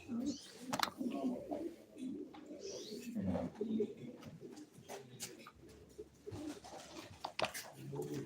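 Pigeons at a live bird auction coo in low, uneven bursts among clatter and sharp knocks, fairly faint, with a little muffled talk in the background.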